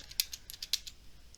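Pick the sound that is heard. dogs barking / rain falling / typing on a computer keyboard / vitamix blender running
typing on a computer keyboard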